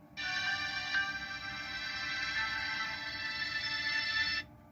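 Audio sample played through the small built-in speaker of an MD3 Max smartwatch, a steady bright tonal sound that runs unbroken for about four seconds at moderate level, close and alone with no talk.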